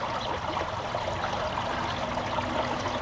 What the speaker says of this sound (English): I'm sitting by the water. It sounds so beautiful and peaceful.